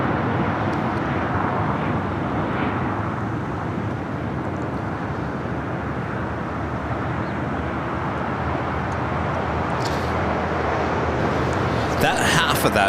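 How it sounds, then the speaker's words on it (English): A Spirit Airlines Airbus A320neo takes off from LAX, bound for San Antonio, with a loud, sustained broadband jet roar that stays steady throughout and nearby chatter faintly underneath. "This is Spirit Airlines 1043 taking off to San Antonio, Texas on an A320neo."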